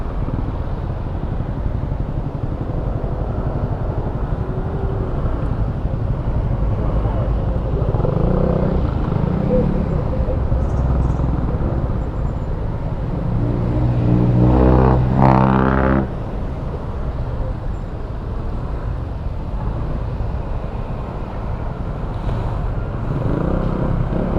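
A motorcycle rides along a road with a steady, loud engine drone and constant wind rush, a brief rising pass of another vehicle partway through.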